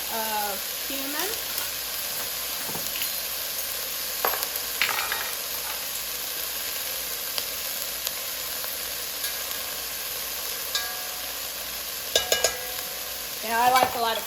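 Vegetables for broccoli cauliflower soup are stirred in a pot over a soft background frying hiss, with sporadic scrapes and clinks of the spoon. The clatter bunches up near the end.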